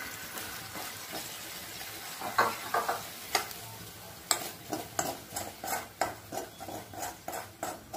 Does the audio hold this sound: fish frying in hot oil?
yes